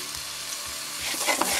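Bay scallops sear in a hot pan with a steady close sizzle, soft faint knocks early on, and the crackle growing busier and louder toward the end.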